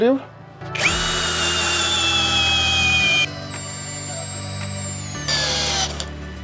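Cordless GRAND DA 202 DFR drill driving an 8 x 200 mm screw into wood: a loud, steady whining motor run of about five seconds that labours and shifts pitch as the long screw bites deeper, then stops.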